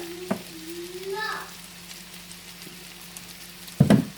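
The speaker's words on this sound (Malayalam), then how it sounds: "ഇപ്പോൾ സവോള വഴന്നിട്ടുണ്ട്" Sautéed onions and green chillies pushed aside in a pan for Kerala-style chicken curry while oil heats, a faint quiet sizzle with a few sharp utensil scrapes, the loudest at the very end.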